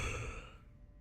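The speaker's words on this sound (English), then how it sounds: "Oh my goodness, I had a yawn." A short, breathy exhale like the tail of a yawn sounds over a low background hum, quiet and close, fading within a second.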